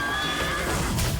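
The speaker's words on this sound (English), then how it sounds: "That's an undead horse." An undead horse in the video game Titan Quest 2 gives a loud, brief whinny that fills the moment against dense game sound.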